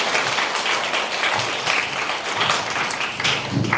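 Brief, dense applause from an audience at a high school admissions and career information session welcomes a lecturer, steady and close without a break.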